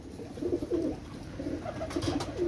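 A pair of golden pigeons cooing softly, with low, repeated burbling calls in short bursts and a faint background hiss, heard close by with no voices.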